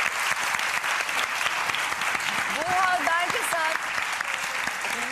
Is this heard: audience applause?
yes